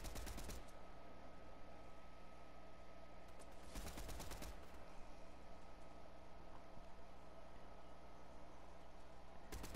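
Distant gunfire in Fortnite, a couple of sharp rapid bursts of shots standing out over a steady hiss of background game ambience, with no voices.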